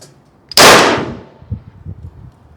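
A single loud, sharp blast from a BinTac T50 Extreme .50 caliber semi-auto big bore airgun, close up, with a quick crack that fades over about half a second, followed by faint low rustling.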